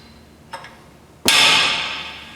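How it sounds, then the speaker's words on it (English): A hammer taps a chisel to drive a front wheel bearing down on a Honda Civic hub, with no press used: one light tap, then a sharp, loud metallic strike that rings and fades over about a second. "Just kind of tap it down."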